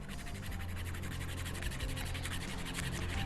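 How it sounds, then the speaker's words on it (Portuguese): A fingernail is filed quickly with the coarse side of a nail file, giving a steady, close scratchy rasp of rapid back-and-forth strokes, quiet and continuous with no talking. "Aí, eu vou lixar com a parte grossa"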